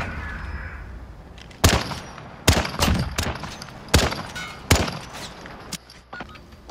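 Gunfire in the Call of Duty: Modern Warfare video game, with about half a dozen sharp, loud shots and short bursts spaced irregularly over a low background rumble.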